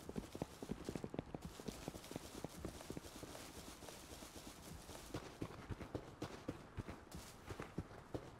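Galloping hooves of a ridden horse in the survival game Rust give a long, fast, steady run of sharp clip-clop strikes. The strikes stay close and loud for several seconds, with only faint background noise.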